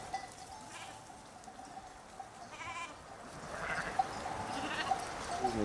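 A flock of about 200 Raïole sheep, a hardy breed from the Cévennes valleys, bleats while grazing among vineyards and hay meadows, with overlapping calls at moderate distance that grow louder toward the end.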